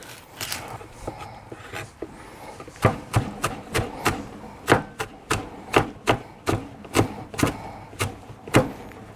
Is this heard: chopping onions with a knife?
yes